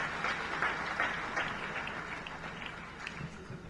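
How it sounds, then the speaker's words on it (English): Applause at a Maritime Academy of Nigeria cadets graduation ceremony, a moderate, fairly distant patter of clapping from a large gathering that fades slightly across a few seconds, no speech over it. "If you're not tired, please clap."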